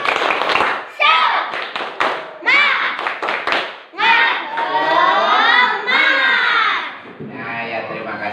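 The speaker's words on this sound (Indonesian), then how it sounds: "Tepuk semangat." Classroom pupils doing a rhythmic spirit clap with a teacher, quick patterned bursts of hand claps mixed with children's shouted chanting, loud and close.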